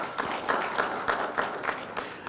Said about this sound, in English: Let's applaud